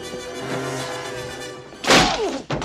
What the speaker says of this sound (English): Nailed him. Woohoo! Nail gun's good.